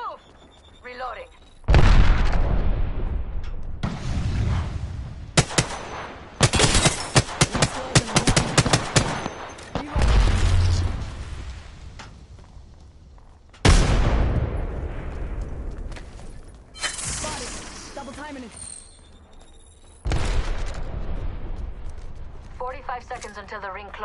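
Video game combat with loud volleys of rapid gunfire and booming grenade explosions, several separate bursts spaced by quieter gaps, close and intense, with players calling out over the action.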